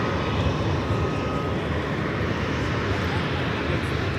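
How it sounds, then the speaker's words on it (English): A NetJets Challenger 350 business jet arriving at LAX from White Plains, New York, gives a loud, continuous broadband engine roar that stays steady throughout, with a voice talking over it. "This flight coming in from White Plains, New York. Challenger 350."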